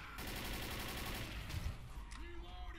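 Dense, continuous gunfire rattles through a Left 4 Dead zombie shootout at the docks, rapid overlapping shots forming a loud fusillade that fills nearly three seconds, with a brief tonal game sound rising near the end.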